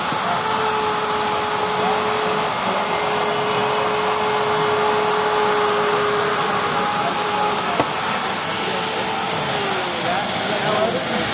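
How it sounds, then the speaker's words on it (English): RotoZip RotoSaw spiral saw with a snap-on dust adapter cutting drywall, a steady loud high-pitched motor whine and grinding hiss running continuously for the whole stretch, with a brief tick near the end. "take a whirl on some drywall and see how that's going to work. Sure, we'll just make a quick cut here."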